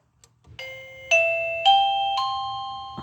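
A doorbell sounds a four-note electronic chime like a tannoy announcement tone, each note stepping higher and ringing out over the last, heard clear and close with no talk.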